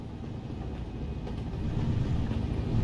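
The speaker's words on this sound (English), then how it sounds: "nice train going overhead" Train passing overhead in American Truck Simulator, heard as a low, steady rumble that swells gradually louder, without voices.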